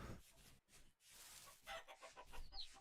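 Chicken clucking in the survival game Vintage Story, a few short clucks rising over a busy, noisy game background.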